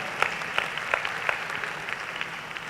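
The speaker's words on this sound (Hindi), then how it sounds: "मेरे बिना कहे आपने जो तालियां बजाई हैं उनको देखकर ही इससे पता लगता है कि आप लोग रसिक लोग हैं" Applause from an audience at a Hindi poetry recital, a moderate, steady patter of many hands with a few louder claps standing out, fairly even in level with no talking.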